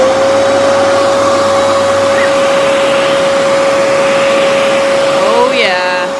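A garden vacuum runs continuously, sucking cucumber beetles off plants with a loud, steady whining roar and a sustained tonal hum, with a brief rustling surge near the end.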